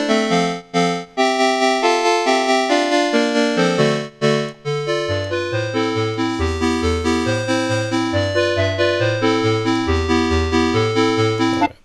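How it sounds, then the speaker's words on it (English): A polyphonic square-wave synth built in Unreal Engine MetaSounds plays a buzzy, bright melody over chords, joined by a lower bass line partway through, the notes steady and clean with no voices. "So if you play back the same thing with a square wave, it sounds like this."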